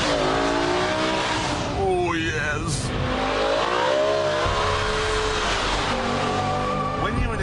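A BMW M5 saloon's engine revs and accelerates hard, pitch climbing through gears with rising and falling sweeps, loud and close inside the car, while someone talks briefly over it.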